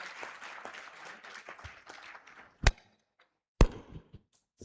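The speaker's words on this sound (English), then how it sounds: "Let's applaud Dr. Abut once more." Audience applause closing a day session at a health integration summit, a soft wash of clapping across a hall that tapers off, followed by two sharp isolated knocks near the end.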